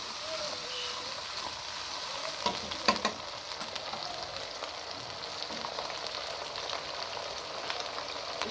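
Ginger and garlic paste sizzles steadily in hot oil while being cooked down for a hilsa fish head and tail curry with cucumber, with a few brief scrapes of stirring partway through.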